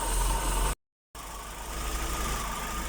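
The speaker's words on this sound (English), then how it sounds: "And that's the car idling with the brake booster pipe." A Vauxhall Corsa that is running rich idles steadily with its brake booster pipe blocked off. The engine drones loud and close, with one brief dropout into silence before the even idle resumes.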